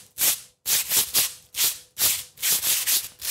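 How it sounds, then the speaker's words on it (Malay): Two sheets of sandpaper rubbed together in a series of rough, loud scratching strokes, about eight short rasps in an uneven back-and-forth rhythm, close and isolated with no voices. "bunyi yang terhasil akibat daripada gesekan yang telah saya buat sebentar tadi"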